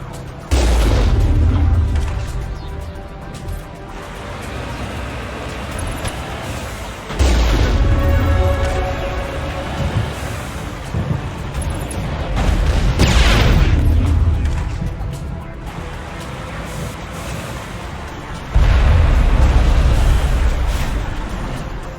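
Artillery on the Virmire battlefield in Mass Effect booms heavily four times at spaced intervals, each deep, loud blast rumbling out before the next, with faint voices in between.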